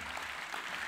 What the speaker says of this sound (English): Big round of applause for all those people there.